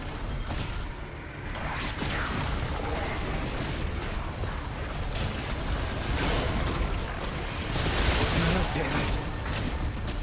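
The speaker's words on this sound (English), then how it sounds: "now I'm getting shot in the back by somebody" Dense bursts of enemy gunfire pepper a battle in the video game Remnant II, with booming impacts and whooshes layered in a continuous chaotic barrage; someone talks over part of it.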